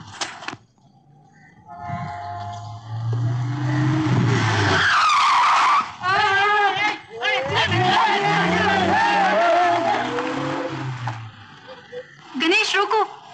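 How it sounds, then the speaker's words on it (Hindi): A car skids and brakes on a road in a 1955 Hindi film scene, with several drawn-out screeching tyre squeals over engine noise and people shouting around it. "गणेश रोको, गाड़ी रोको।"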